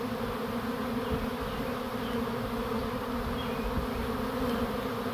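A massive honeybee swarm settles into a backyard swarm trap, its dense, steady buzzing holding close and loud without a break.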